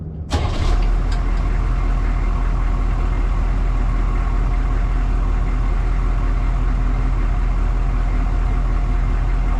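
A 1993 AM General Humvee engine runs steadily as the vehicle drives, a loud, constant low rumble following a brief sharp mechanical clunk at the start, with no talk over it.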